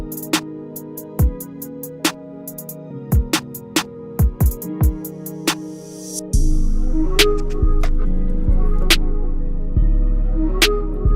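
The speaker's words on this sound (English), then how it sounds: "Some woodwind kind of thing." A beat with a reedy, breathy woodwind-like melody over plucked hits and, midway, a deep sustained bass drone.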